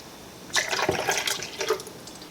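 Milk pours into an 8 by 8 inch baking pan for a pear clafoutis, a short liquid splash and trickle lasting about two seconds, moderately loud and close, with no talking.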